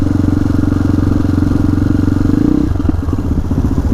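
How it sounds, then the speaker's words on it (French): A motorcycle engine idling loudly up close, a steady, throbbing, low rumble with rapid rhythmic pulsing that shifts slightly in tone partway through. "Les gens ils kiffent le son des motos"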